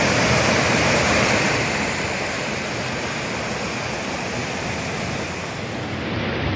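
Rushing river water at Paradise Valley in Kings Canyon, a steady broadband roar like a small waterfall or rapids, close and loud, continuous with no voices.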